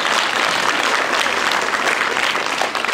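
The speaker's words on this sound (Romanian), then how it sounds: "să-l aplaudăm, așa?" Audience at a school end-of-year ceremony in Cioreşti claps steadily and fairly loudly for the full three seconds, a dense wash of hand claps with no talk over it.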